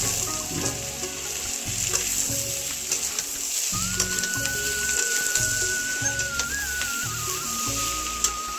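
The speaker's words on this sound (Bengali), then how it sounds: "তো এবার এটা ভাজবো আমি" Steady, loud sizzling of cabbage and capsicum being stir-fried in a hot pan, with continuous crackle and occasional scraping as they are tossed.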